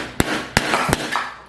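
Three sharp, close hammer blows tapping a part onto a Weber Original charcoal grill during assembly, spaced about a third of a second apart, followed by fainter knocks.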